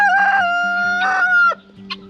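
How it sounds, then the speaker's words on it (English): A regal farmyard rooster crows loudly and close by in two long harmonic calls, the second ending around the halfway mark, followed by a short cluck against a steady low hum. "Look at my rooster, he's so regal."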